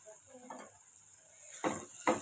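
Food sizzles steadily in hot oil in a pan, with two louder scraping stirs near the end and no talking.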